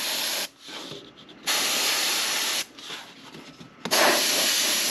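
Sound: spray painting

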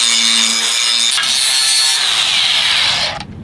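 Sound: grinder in use

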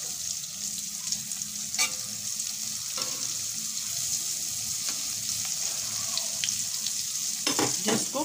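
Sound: sweet potato and cheese frying in a pan

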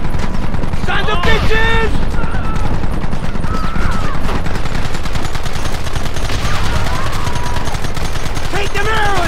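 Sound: gunfire from the video game Red Dead Redemption

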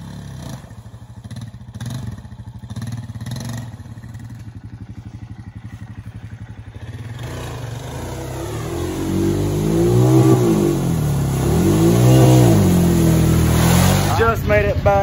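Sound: Honda motorcycle engine revving while riding

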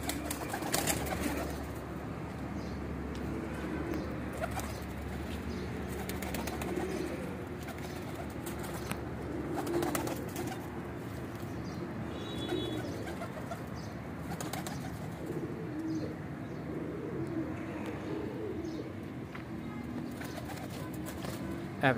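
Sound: pigeons cooing

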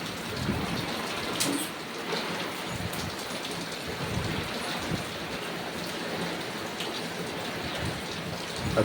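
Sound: heavy rain falling

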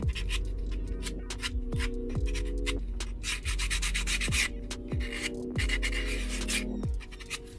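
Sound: hand filing chamfers on a custom knife

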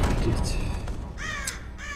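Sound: crow cawing in the video game Barrow Hill

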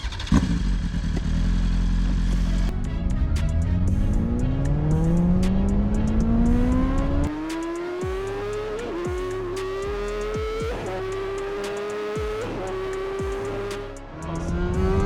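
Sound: Tesla Model S Plaid and BMW S 1000 RR accelerating in drag race

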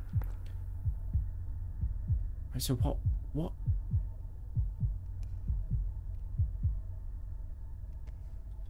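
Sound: heartbeat sound in the video game Forewarned

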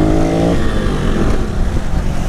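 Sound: Honda Pop 110 motorcycle engine revving

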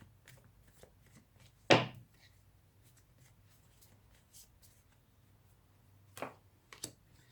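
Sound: shuffling tarot cards

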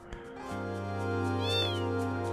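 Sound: cat meowing in video game Final Fantasy VIII

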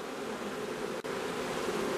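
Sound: honeybees flying around an opened hive

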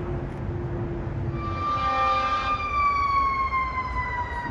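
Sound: fire engine sirens

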